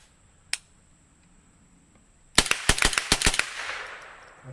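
Rifle shots fired outdoors crack out loudly in a quick burst of about five sharp reports, preceded by a single fainter click or pop, with echoes trailing off afterward.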